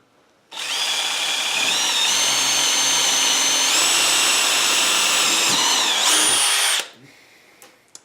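A power drill bores into a basement wall or board while shelves go up, a loud close whine held for about six seconds with slight pitch shifts under load before it stops abruptly.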